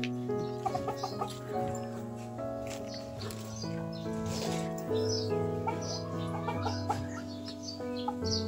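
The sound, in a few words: silkie chickens clucking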